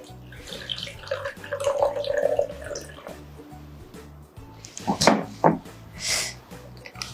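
About 120 ml of water poured for a mocha in a home cafe setting, a running, splashing stream with drips and bursts of louder splashing near the end, heard close and clear.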